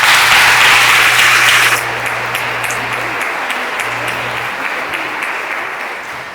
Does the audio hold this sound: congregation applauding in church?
yes